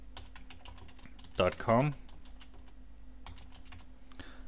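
A website address is typed on a computer keyboard in a quick run of light, close clicks, briefly interrupted by someone speaking, then a few more keystrokes at the end.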